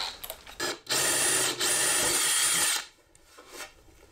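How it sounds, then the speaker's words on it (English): A power drill with a 9/32-inch bit buzzes in two close bursts, a brief break between them, with light handling clatter before and after. "we can take it out and drill them out"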